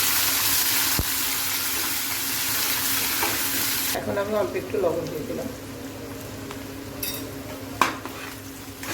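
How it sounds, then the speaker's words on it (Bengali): Onion is stirred as it fries in hot oil with bay leaf, dried chilli and cumin. A loud, dense sizzle fills the start, then drops to softer bubbling with a few utensil clinks while someone speaks. "পেঁয়াজটা একটু ভাজা ভাজা"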